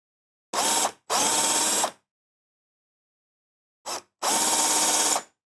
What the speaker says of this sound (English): mark all 3 of these with the hand drill running in reverse as usual.